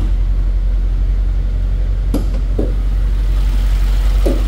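A Mercedes-AMG GT 63 S with a 4.0-litre twin-turbo V8 idles with a steady, deep low hum close by. A few faint clicks and taps occur partway through, and no one speaks.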